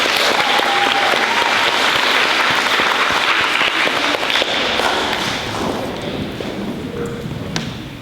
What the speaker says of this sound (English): Round of applause for Gabe and Lila.